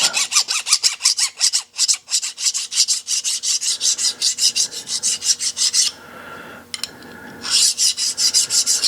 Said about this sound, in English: I'm going to take a file. Get some of the burrs off of it.